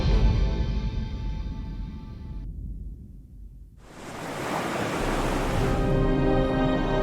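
Sea surf from a lagoon shoreline beside a MotoGP circuit fills the scene, a steady broadband wash of breaking waves that dips briefly, then swells back louder and continuous; no voices are heard.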